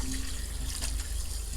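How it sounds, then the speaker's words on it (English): Tap water runs into a pot onto pork for carnitas, a brief continuous splashing rush heard close and alone. "When you add water"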